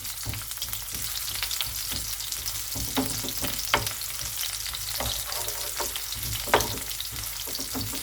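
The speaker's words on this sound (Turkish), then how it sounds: "Güzel soğanlarımızı karamelize edeceğiz." Onions caramelizing in a hot pan over high heat, a dense continuous sizzle and crackle with occasional stirring scrapes, close up and alone without talk.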